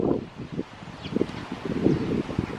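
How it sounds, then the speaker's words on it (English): Wind gusts through a hazel tree bearing catkins on a blustery early spring day, rustling branches and buffeting microphone rumble rising and falling in uneven bursts. "it's quite windy, as you can hear"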